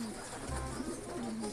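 Pet pigeons cooing softly in a low, steady murmur of repeated coos through the whole short stretch, with no talking.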